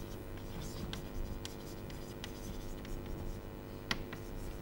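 Chalk or marker scratches against a board while equations are written during a lecture, soft intermittent strokes and taps over a quiet room hum, with one sharper tap near the end.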